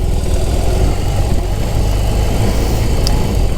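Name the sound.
BMW R18 motorcycle engine while riding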